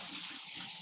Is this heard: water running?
yes